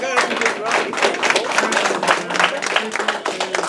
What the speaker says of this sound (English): please continue your applause